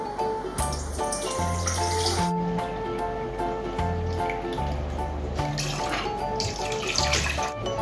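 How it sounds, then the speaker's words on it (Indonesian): Water runs steadily into a metal pot as uncooked rice is washed, a continuous close splashing and trickle that carries on alone for several seconds over faint background music. "sekarang kita cuci dulu berasnya ya"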